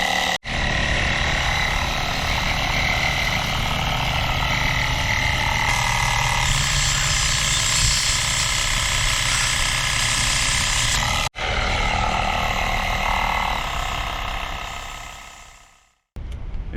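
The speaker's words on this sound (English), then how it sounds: "it was a fail on pumping up my tire. The compressor worked, but it didn't have enough oomph" Small portable air compressor running steadily to pump up a car tire, a loud continuous mechanical drone with a brief dropout near the start and another around eleven seconds, fading and cutting off at the end.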